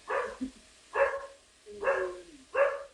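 Small dog barking: four short, sharp yaps spaced roughly evenly over a few seconds, close and fairly loud against a quiet background.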